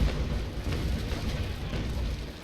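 Cannon fire from a Basic Cutter in the naval battle game Naval Action, heard as a continuous low rumbling roar of broadside shots with no talk over it.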